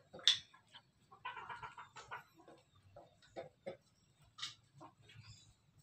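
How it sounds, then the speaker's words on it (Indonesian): Rooster crossbred from Bangkok and Pelung chickens, heard faintly among clucks and short calls from nearby farm fowl in the morning, quiet bursts scattered across the stretch. "yang ini persilangan ayam Bangkok dengan ayam pelung"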